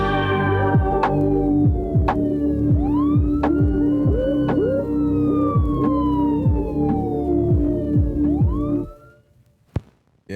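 A police siren wails in repeated rising and falling sweeps inside a UK rap track, loud over a throbbing bass beat, then cuts off near the end, leaving a single sharp hit.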